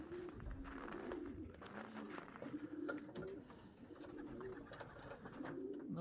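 Racing pigeons coo outside their loft in Lithuania, soft repeated low calls from several birds overlapping at moderate distance, quiet overall with no talking.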